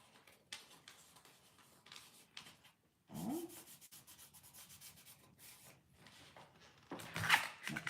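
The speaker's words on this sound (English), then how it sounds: "Take my sandpaper now" Sandpaper rubs over a wooden piece being finished before sealing, giving soft intermittent scratchy strokes in a quiet room, with a louder burst of rubbing near the end.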